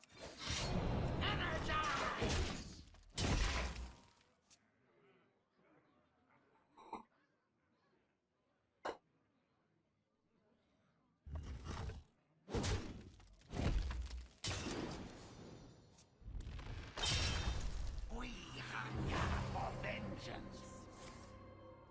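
Hero power effects from the card game Hearthstone come in as bursts of shattering, whooshing and thudding magic sounds, loud and clustered at the start and end with a quieter stretch between, alongside talk.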